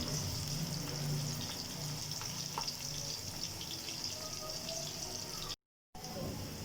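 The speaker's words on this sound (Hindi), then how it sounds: "प्याज को हम सुनहरी होने तक पकाएंगे, ज़्यादा ब्राउन नहीं करेंगे।" Chopped onions frying in oil in a pan while cooking a beef pulao, giving a steady hiss and crackle with a faint sizzle throughout and a brief gap of silence near the end.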